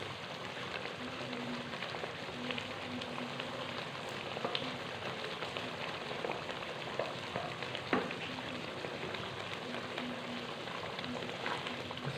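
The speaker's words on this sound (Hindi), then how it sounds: "इसको अच्छी तरह मिक्स करेंगे और इसको फ्राई करेंगे" Masala of turmeric, dried coriander, salt and black pepper frying in a pan, a steady close sizzle with faint stirring scrapes and a quiet voice in the background.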